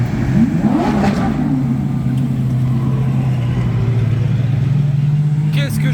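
A Lamborghini Huracan STO supercar cruises past on a Cannes street, its engine droning steadily and loud with a slight rise in pitch, close by amid constant traffic noise.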